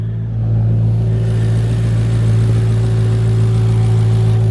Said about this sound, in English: Seems to be running and idling really nice too